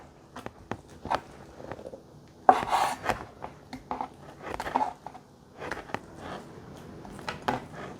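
A knife slices through thick tofu skin on a cutting board, making a scattered series of close taps, soft scraping strokes and board knocks with short pauses between cuts.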